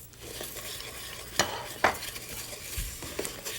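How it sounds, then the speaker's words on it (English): Rice and split mung beans being sauteed with vegetables, ghee and spices in a pan, a soft steady sizzle with a few sharp spoon scrapes and taps against the pot, close up and without speech. "So let's saute the rice and beans with the vegetables, ghee and spices together for about 2 minutes."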